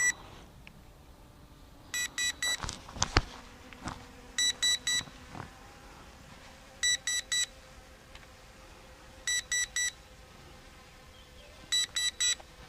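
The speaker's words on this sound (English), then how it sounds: "you get that constant beep to tell you it's in return to home mode" Short electronic beeps in quick triple bursts from a ZD012 GPS drone in return-to-home mode, repeating at regular intervals over faint wind and handling noise.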